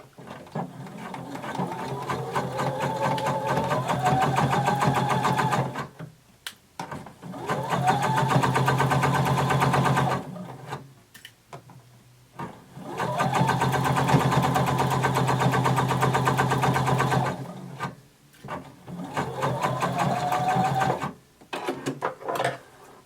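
A sewing machine stitches a long bodice seam, its needle whirring steadily through four extended runs broken by brief stops, near and clear.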